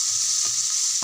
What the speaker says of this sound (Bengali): পেঁয়াজগুলোকে একটু লাল করে ভেজে নেব